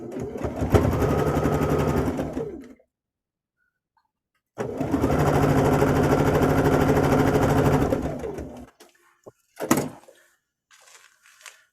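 A sewing machine stitches quilt pieces at a quarter-inch seam in two loud, steady runs of rapid mechanical whirring, each a few seconds long, separated by silence and followed by a few sharp clicks and handling noises.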